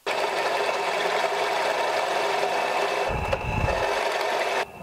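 A power drill with a large bit bores through melamine-faced hardboard, giving a steady loud whine that runs almost continuously and stops near the end.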